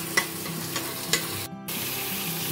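Chopped onion, chili and red chili garlic paste stir-frying in oil: a steady close sizzle with a few sharp spatula taps and scrapes against the pan, with no voices.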